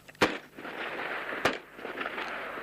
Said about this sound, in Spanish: 3 tiros de G3, tiro por tiro solamente al aire.